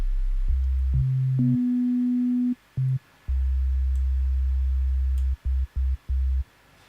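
A low sine wave synth bass in Ableton with a first harmonic added, giving a faint overtone above the loud fundamental as sustained notes change pitch and cut off sharply.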